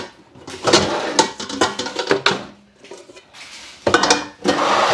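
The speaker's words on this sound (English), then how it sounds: "I'm going to change the pot now." A cooking pot is swapped on a home stove: metal pots and lids clank and scrape in a burst of close clatter, pause briefly, then clatter again.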